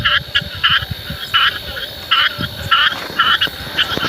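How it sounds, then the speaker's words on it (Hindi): Frogs croak in repeated short bursts, a steady pulsing chorus close by with no talking. "मेरे ख्याल में ये फ्रॉग है, मेंढकों की आवाज़ आ रही है।"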